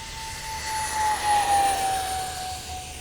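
An XFly A-10 Thunderbolt II RC jet with twin 50mm electric ducted fans and extended landing gear makes a high-speed pass, a loud whining whoosh that swells and holds with a steady high tone.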